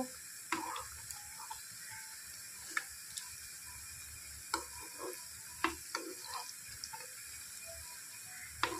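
Mango and rice-flour pakoras frying in hot oil, a steady soft sizzle and bubbling under scattered light clicks and stirring taps, close and fairly quiet.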